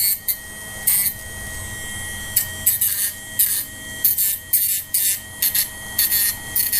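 Rasping trim work on a mule deer antler mount: a run of short, bright scraping strokes, close and fairly loud, coming in uneven bursts over a steady hum with no voices.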